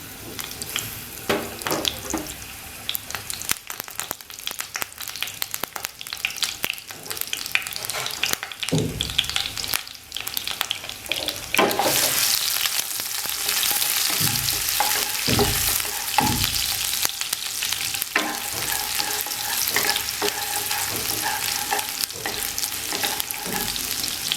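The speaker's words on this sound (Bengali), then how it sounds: "এবার কুচি করা পেঁয়াজগুলো তেলের মধ্যে দিয়ে দিলাম" Chopped onions sizzle in hot oil over a very low flame while a Bengali hilsa fish curry with potato and brinjal is being made, a steady frying hiss rising louder midway with scattered stirring clatters and no voices.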